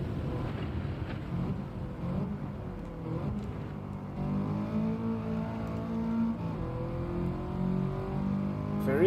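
A race car engine in Gran Turismo, driven on the Dragon Trail Seaside circuit, drones steadily and climbs in pitch through the gears, close and continuous, with a soft wind-like hiss underneath.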